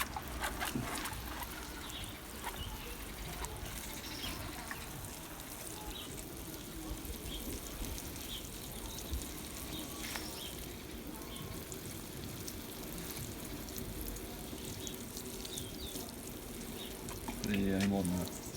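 Water poured over garden plants, a faint continuous trickling and splashing that runs steadily throughout, quiet outdoors with soft talk near the end.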